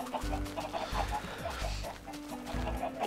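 Chickens clucking on a chicken farm in the Minecraft video game, a steady run of short game-style clucks over a continuous low background, fairly close and moderately loud, with no talk.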